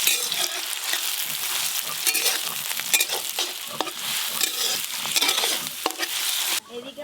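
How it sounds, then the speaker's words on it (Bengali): Chopped onion fries in mustard oil with whole spices, hissing steadily up close while a spatula scrapes and stirs in frequent strokes, then the sound drops off abruptly at the end. "পেঁয়াজ কুচিগুলো হালকা করে একটু ভাজা ভাজা হয়ে গেছে"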